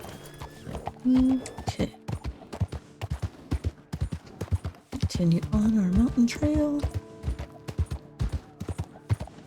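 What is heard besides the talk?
horse hooves clip-clopping on mountain trail, Red Dead Redemption 2 video game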